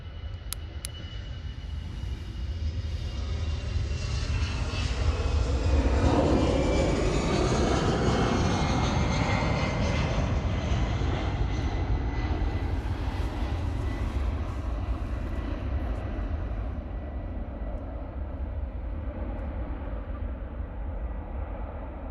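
EasyJet airliner jet engines roar steadily in flight, a loud, continuous broadband rumble with a slowly shifting whine, sustained without pause and with no voices.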